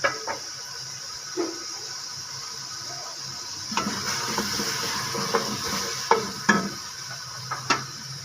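Carrots and potatoes frying in hot oil for a mixed vegetable pulao, giving a steady low sizzle with occasional sharper clinks and stirring scrapes scattered throughout, no talking.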